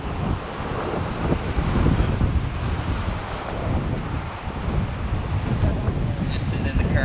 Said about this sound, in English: Wind kind of decent right now.